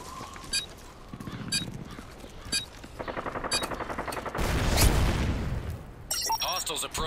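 Rapid automatic gunfire bursts and single shots from Modern Warfare 3 survival mode, dense and loud in stretches, with a voice announcing game alerts over the shooting and brief ringing tones near the end.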